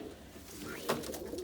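An Indian fantail pigeon hen of the Deroy type gives a soft, brief coo, faint and near, over a quiet room background.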